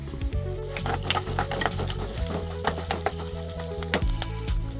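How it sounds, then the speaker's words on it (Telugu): A South Indian tempering for lemon rice, with turmeric and fenugreek powder, fries and crackles in hot oil as a spoon stirs and clinks against the pan. The sizzle is loud and close, with no voices. "వీటినన్నిటిని బాగా ఫ్రై చేసుకోవాలి. ఇందులోనే కొంచెం పసుపు, మెంతి పొడి వేసుకోవాలి."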